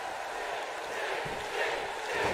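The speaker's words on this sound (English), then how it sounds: "Now the crowd starting to get behind Sting" A wrestling arena crowd roars and cheers for Sting as he batters Terry Funk, a steady, dense wall of distant crowd noise that swells slightly toward the end.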